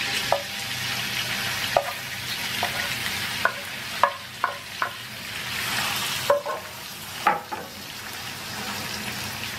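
Octopus sizzling in garlic oil in a pan, a loud steady fry close by with a run of sharp spoon scrapes and clacks as it is stirred, and no talking.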